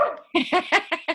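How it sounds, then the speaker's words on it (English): A dog barks five times in quick succession, close by, after a short whine. "that's my dog saying hi as well"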